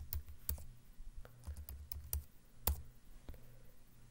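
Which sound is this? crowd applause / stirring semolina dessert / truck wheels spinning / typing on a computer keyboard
typing on a computer keyboard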